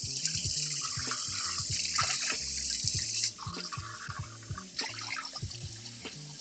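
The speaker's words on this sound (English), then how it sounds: "Then we're going to do 3 cups of cold water." Cold water splashes and trickles into a pitcher for homemade lemonade, a close, continuous pour with dripping and a clear break about halfway, then resuming.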